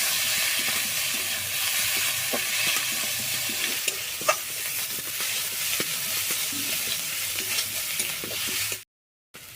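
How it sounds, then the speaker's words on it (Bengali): Spices and turmeric fry in a pan for a village-style snail (gugli) curry, with a steady close sizzle and scattered scraping and stirring clicks, ending in a brief silence. "হলুদটা দেওয়ার পর এটা আবার ভালো করে একটু ভাজা ভাজা করে নেব"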